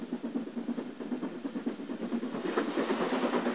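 An original 600-volt DC third-rail electric train rolling along the tracks with a steady, rhythmic clickety-clack and a low rumble, moderately close and continuous.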